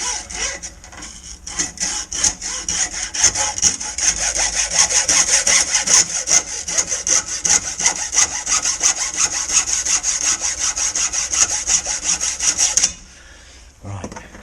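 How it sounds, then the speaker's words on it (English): Hacksaw with a fine-tooth blade cutting through stainless steel braided fuel hose, a steady, close rasping of rapid back-and-forth strokes running about thirteen seconds before stopping abruptly. "as fine a TPI as you can on your hacksaw. And then we'll just chop through this, trying to be very careful."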